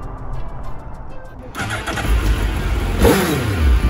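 A motorcycle engine starts up on a winter day, catching with a sudden loud burst after a quiet moment, then idling and revving briefly, close by.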